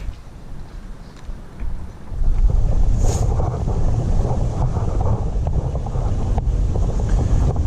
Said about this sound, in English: And yeah, here's the creek.